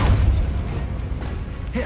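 The Depulso spell fires in the Hogwarts Legacy video game, a loud, deep whooshing boom with rumbling low end that fades into a dull rush, ending with a brief higher tonal flourish.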